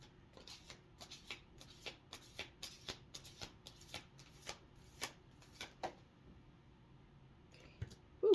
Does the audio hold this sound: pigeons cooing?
no